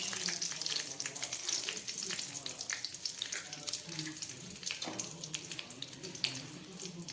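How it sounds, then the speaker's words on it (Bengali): Bay leaves and whole garam masala crackle and sizzle in hot oil for a mutton curry, a steady broadband frying hiss with a few sharper pops, close and continuous, no talking. "এই তেলের মধ্যে দিয়ে দিচ্ছি 2টো তেজপাতা আর দিয়ে দিচ্ছি একটু গরম মশলা ফোড়ন।"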